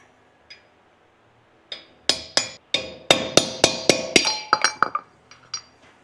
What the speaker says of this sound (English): Just use a cold chisel and just tap this cap